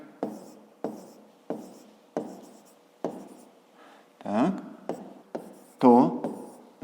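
A pen writes a formula by hand on paper: short regular strokes tapping and scratching in a steady rhythm, close and quiet, with a brief voice partway through.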